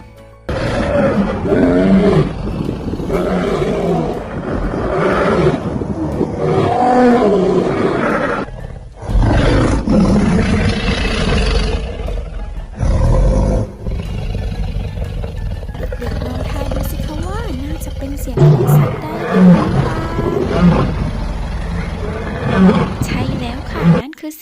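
A lion roars again and again in a wild animal sound recording for young children, deep, loud rumbling calls in long bursts with brief pauses between them.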